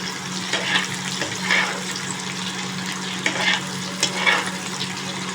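Onion, capsicum, ginger and garlic fry in a pan while being stirred, a continuous loud sizzle broken by several scraping stir strokes, close and without speech.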